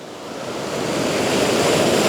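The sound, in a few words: ocean waves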